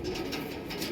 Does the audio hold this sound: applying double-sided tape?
no